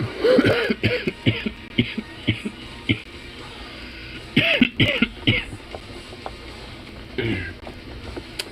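Bursts of harsh coughing and throat clearing, several in quick clusters with short pauses, close and fairly loud.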